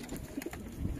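Madrasi pigeons kept by a fancier coo softly and briefly, a faint low burbling close by.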